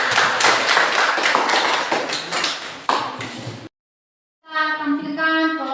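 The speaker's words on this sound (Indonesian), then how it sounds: "kita berikan tepuk tangan" Group applause rings out during a class performance assessment: a fast, dense run of claps for several seconds that cuts off abruptly into silence before a different tonal sound begins.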